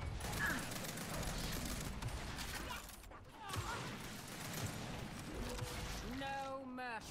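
Rapid bursts of gunfire crackle through a ranked online match in the shooter Gears 5, layered with other game effects and a voice talking over the action.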